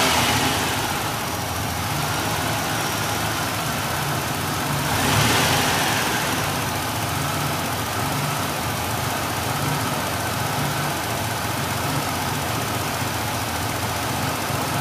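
Ford Ranger six-cylinder engine running in a repair shop with a power loss fault, a steady loud close hum with a brief swell in revs midway before settling back to a lower, even idle.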